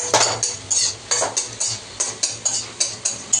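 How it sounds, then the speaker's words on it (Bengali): Capsicum and onion being stirred in a frying pan, a utensil scraping in a steady rhythm of about ten close, clear strokes over a faint sizzle. "কি ভাজছো এটা? ক্যাপসিকাম আর পেঁয়াজ।"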